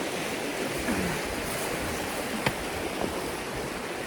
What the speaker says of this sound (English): I'm going to still enjoy this lovely little creek.